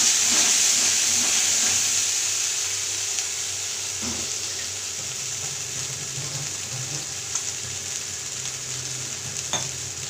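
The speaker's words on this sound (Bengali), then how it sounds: "এই মশলাটাকে ভালো করে কষে নেব।" Turmeric and chili spice paste sizzles steadily in a pan while being stirred for an eggplant and hilsa curry with kalonji; close, continuous frying hiss throughout with no talking.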